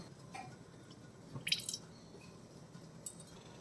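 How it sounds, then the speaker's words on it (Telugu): Cooking oil pours into a kadai on a stove ahead of a tomato curry, a soft, quiet liquid trickle with a brief brighter splash partway through, heard alone with no talking. "ఆయిల్ వేసుకుందామండి."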